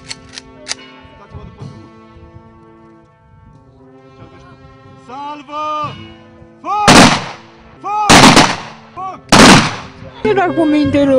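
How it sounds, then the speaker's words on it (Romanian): Rifle volleys fired as a military salute at a funeral for young people in Mehedinți, Romania: three loud, sharp bursts spaced about a second apart, preceded by singing voices and followed by talk. "au tras focuri de armă în memoria colegului lor"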